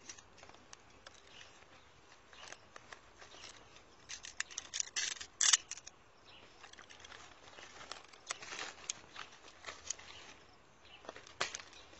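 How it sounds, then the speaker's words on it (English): Pruning shears snip the growing tip off a mango tree, a few quiet crisp cuts scattered through rustling leaves and branches, with a louder snip near the middle. "what I've done is just cutting off the upper part, the growing point of this mango tree"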